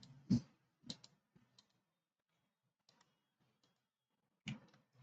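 A computer mouse gives a few sharp, close clicks, irregularly spaced with quiet gaps between them.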